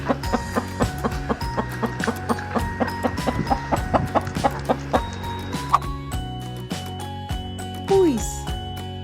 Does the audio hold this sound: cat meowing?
no